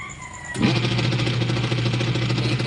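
A Eureka washing machine with a broken, noisy gearbox starts up abruptly and runs with a loud, steady mechanical hum and grinding rattle, close by and continuous.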